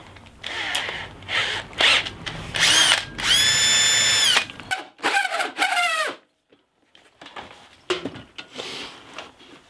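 A power drill fitted with a cheap hole cutter, likely meant for plasterboard, cuts slowly through material. It is heard close up in uneven bursts of whining and grinding with rising and falling pitch, then it stops and handling clatter follows.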